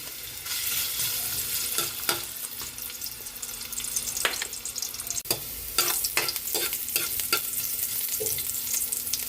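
Ginger sizzles and fries in a hot pan for ginataang isda, a steady crackling hiss with bursts of stirring and clinks of the utensil against the pan.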